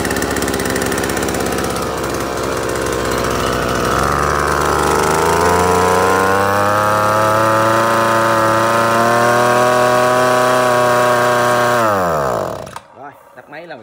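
A small gasoline brush cutter engine fires up and revs, its pitch climbing to a high steady buzz held for several seconds before it dies abruptly near the end.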